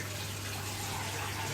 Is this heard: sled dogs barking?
no